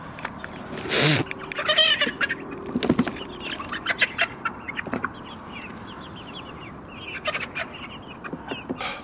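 Chickens cluck and squawk nearby outdoors, with several sharp loud calls early on, then softer, scattered clucking and rustling continuing throughout.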